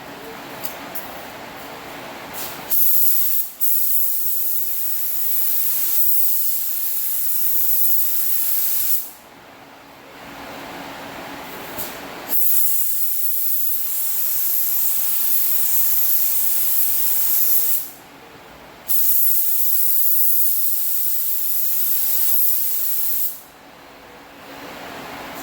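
A spray gun lays high build urethane onto a replacement bed side panel of a 2001 Ford F-350, loud hissing bursts of several seconds each, separated by brief pauses as the trigger is released.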